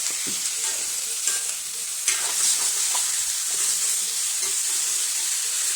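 Chopped green chili, pumpkin and drumstick are stirred into sizzling onions for a Kerala-style theeyal. A steady, bright hiss runs throughout, broken by occasional scraping and clinking of the spoon against the pan.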